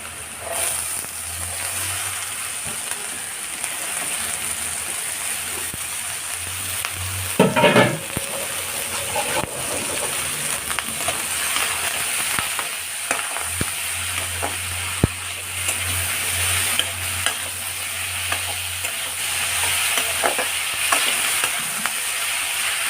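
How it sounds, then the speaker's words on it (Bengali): Yellow bell pepper and green capsicum stir-fry in a hot pan, giving a steady close sizzle with occasional scrapes and clatters of the stirring utensil, no voices. "এবার আমি দিয়ে দেব yellow bell paper and green capsicum."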